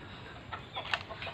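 Chickens on a farm where poultry are raised give a few soft, brief clucks against quiet background noise, with no talking.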